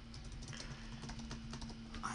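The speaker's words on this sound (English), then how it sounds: "type the password here" A computer keyboard is tapped in quick, irregular keystrokes while a password is entered, fairly quiet and close, over a faint steady electrical hum.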